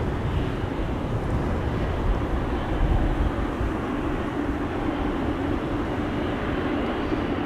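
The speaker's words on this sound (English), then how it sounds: "United 767 also on the move, coming this way." A United Boeing 767 taxis at Amsterdam Schiphol Airport, its engines giving a steady, broad roar that holds evenly throughout, moderately loud at a distance, with no voices.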